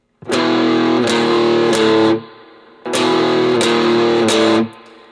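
Two loud, heavily distorted electric guitar phrases from a riff, each a sustained chord with quick restrikes, separated by a short gap, played alone without any voice.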